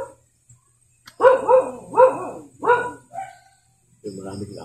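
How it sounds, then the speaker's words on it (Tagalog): Several dogs bark in short loud bursts, three or four close barks followed by a lower, longer yelp, with a quiet gap before they start. "maraming aso dito na master"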